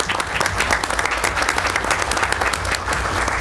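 An audience at a town council reorganization meeting applauds steadily, a dense wash of many hands clapping at once that holds an even level throughout, with no voices over it.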